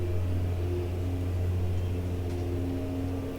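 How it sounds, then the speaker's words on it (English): A neighbor's lawnmower drones steadily in the background, a low continuous engine hum with a faint tonal whine, moderately quiet and unbroken throughout. "so I do apologize for the lawnmower noise in the background"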